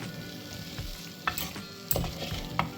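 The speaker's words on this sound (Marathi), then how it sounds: "हे छान असे आपल्याला वाटणामध्ये पलटून घ्यायचे आहेत" Fresh cashews are stirred through ground masala paste in a pan, with a steady frying sizzle and several sharp scraping strokes from the spoon, close up and with no talk.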